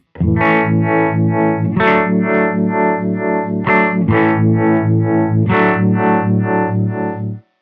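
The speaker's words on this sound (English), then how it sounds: "the middle, we have a sine wave." A guitar runs through a Jam Pedals Harmonious Monk with sine wave modulation, its loud, steady strummed chords swelling and dipping in a regular rhythmic pulse until they stop abruptly at the end.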